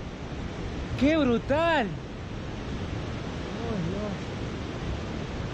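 Steady broadband roar of a waterfall seen from a distance at a scenic spot in Valle de los Chillos, continuous throughout, with people speaking and exclaiming over it.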